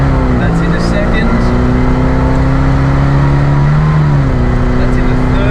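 A 1968 Morris Mini-Matic with a slipping automatic gearbox runs loud and close, its engine note climbing and dropping as it shifts up through the gears, with someone talking over it.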